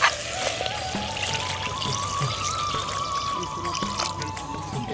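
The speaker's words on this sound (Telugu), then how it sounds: "ఇప్పుడు సరిపడ నీళ్ళు పోసుకోవాలి" Water pours steadily into a pot of country chicken curry with a rising gurgling tone and light splashing, close and continuous.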